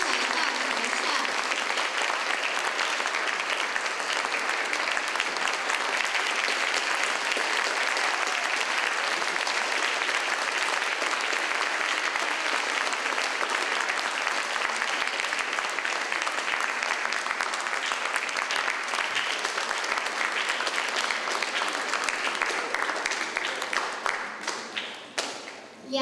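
A large audience at a music performance's closing ceremony applauds steadily as two teachers are welcomed on stage. The dense, even clapping is sustained at a constant loudness for about twenty-five seconds, then tapers off at the end.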